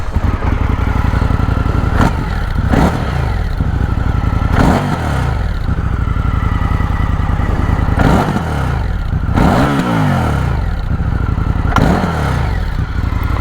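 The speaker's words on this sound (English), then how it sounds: "let's start this bike up and have a listen to the engine and the exhaust" An Indian FTR 1200 motorcycle starts up and idles loudly and close by, its engine and exhaust blipped in repeated revving bursts over a steady throbbing idle, with no one talking.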